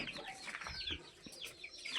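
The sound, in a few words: chickens clucking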